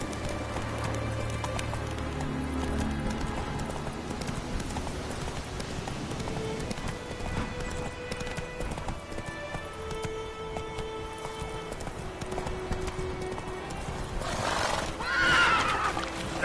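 Horse Roach whinnies and gallops in The Witcher 3 game, a steady dense texture of hoofbeats and neighs layered over music and ambient noise, with a brighter burst near the end.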